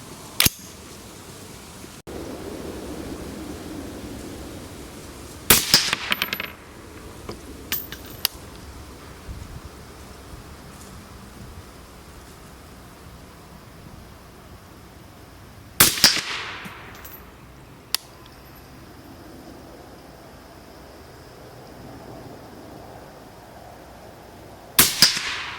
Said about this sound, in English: let's go ahead and do that 4-shot group